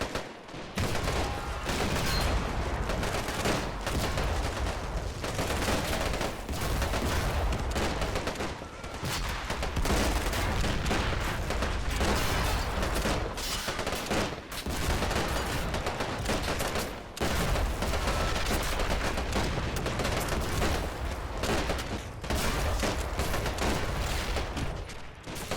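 Gunfire from gun crews holding back German vehicles in a WWII North Africa strategy game, a dense and continuous barrage of overlapping shots and bursts that stays loud for the whole stretch.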